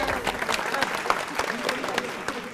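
Loud applause from a college talk-show audience, a dense steady clatter of many clapping hands filling the whole moment without pause.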